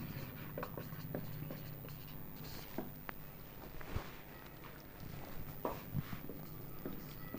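Pen scratching out notes during a Class 12 physics lesson, a steady run of small strokes and taps, faint and close, with no talk.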